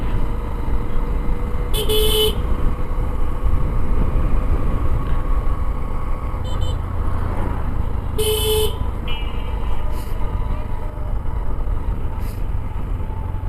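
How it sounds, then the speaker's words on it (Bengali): CNG auto-rickshaws stream along a busy rural road near a village market, engines droning steadily while two sharp horn blasts cut through near the start and middle, with fainter toots scattered between. "এই রাস্তাতে বহুত সিএনজি চলে, বহুত, মানে প্রচুর সিএনজি।"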